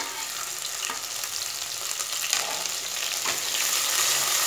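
Garlic, ginger and chili paste hitting hot oil with whole spices for Rajasthani dal baati makes a loud, close, hissing sizzle that swells slightly over a few seconds, with brief stirring scrapes.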